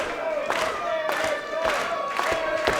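A wrestling arena crowd clapping in rhythm and cheering, with loud regular claps roughly every half second over a steady roar of voices.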